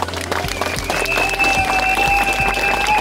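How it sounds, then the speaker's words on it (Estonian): Audience applause at a political rally event in Estonia, a steady wash of clapping heard close and fairly loud, with a faint sustained tone running beneath it. "praegu aplausi saatel suur tänu, Andres Raid."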